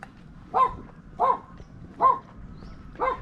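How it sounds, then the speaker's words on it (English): Dogs bark four times in a steady rhythm at a moderate distance, each bark short and clear over low outdoor background noise on a walk through Bang Krachao, Thailand. "Doggies."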